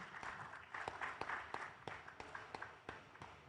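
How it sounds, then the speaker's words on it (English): Audience applause at a Hyperscalers Convergence Africa conference session: fairly faint, steady clapping from a crowd with a few sharper individual claps standing out, holding for a few seconds. "A round of applause to Dan."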